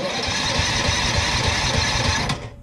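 A Tillotson 212E small engine cranks on choke, a steady buzzing mechanical drone that holds close and loud for over two seconds, then stops abruptly near the end.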